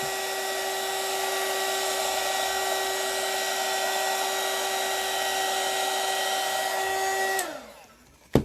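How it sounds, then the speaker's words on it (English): A hot air blower runs with a steady, loud whirring hum and high whine for about seven seconds, then shuts off and winds down, followed by a short knock. "So anyway, turn it on. Just kind of blow a little heat on it a little bit."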